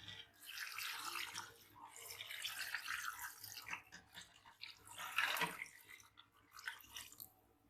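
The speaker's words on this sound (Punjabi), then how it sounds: "ਹੁਣ ਮੈਂ ਇਹਦੇ 'ਚ ਡਾਲ ਦੂੰਗੀ ਪਾਣੀ।" Water is poured into a cooking pot while making beef paya. The pour comes as soft, splashy, uneven bursts of gushing and trickling at close range, with no talk.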